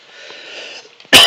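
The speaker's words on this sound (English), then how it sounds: "I do apologize for that cough." A single sharp cough bursts out loud and close at the end, after a stretch of quiet background hiss.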